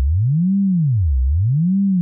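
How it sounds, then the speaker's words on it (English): A pure sine tone from an Ableton Live synth, its pitch swept smoothly up and down by an LFO in a slow, even wave, about two cycles, clean and steady with nothing else present. "that's pitch modulation of the sine wave that we have"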